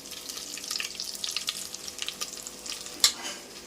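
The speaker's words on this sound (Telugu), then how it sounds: "అల్లం తెల్లబాయి కూడా మనకి బాగా ఫ్రై అయిపోయింది చూడండి ఒకసారి" Ginger and garlic paste fry in a hot pan with a steady soft sizzle and crackle, punctuated by a few stirring clinks and a brief sharper scrape near the end.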